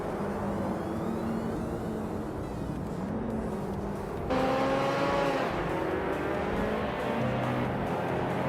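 A 2018 Volkswagen Golf R race car drones loud and steady under sustained throttle, its engine note shifting partway through as it keeps pulling hard along the track.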